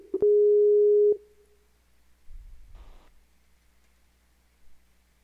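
A single steady telephone tone, roughly one second long, sounds before a call in an online game stream, then cuts off and leaves faint rustling and a brief noise burst.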